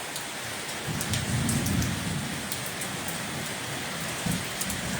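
Steady rainfall on a bungalow in Isan, Thailand, with a low rumble of thunder swelling and fading, heavy and continuous with no voices.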